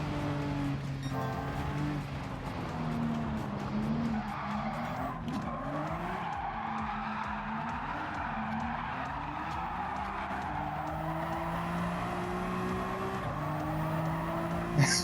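Race cars in Gran Turismo 7 drift and skid with wavering tire squeal over a steady engine drone, producing a continuous, moderately loud screech.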